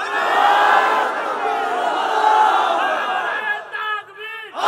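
A large crowd at a Bangla Islamic religious gathering shouts the takbir together in a loud, sustained roar of many voices, swelling and holding for several seconds before breaking into scattered calls.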